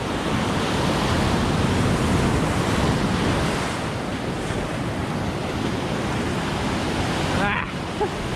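Steady roar of ocean surf breaking on a beach during surf fishing, dense and continuous with wind buffeting the microphone, and a brief faint voice near the end.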